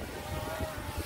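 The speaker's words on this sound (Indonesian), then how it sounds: "agak susah juga ya, anginnya kenceng banget." Strong wind buffets the microphone in a low, rumbling roar, a brief steady gust with muffled fluttering, outdoors while flying a drone.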